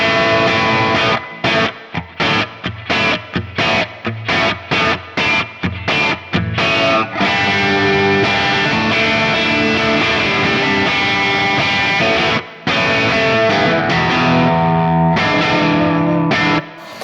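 A mildly overdriven electric guitar with a crunchy, slightly broken-up plexi-style tone, played through a Fractal modeler using a dual-input sound, plays choppy chords, then sustains ringing notes, loud and close.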